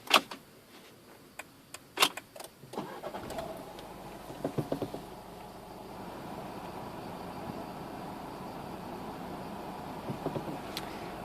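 A Renault Clio 4 with a 1.5 dCi 90 hp diesel starts after a few clicks, then settles into a low, steady idle heard close up from inside the car.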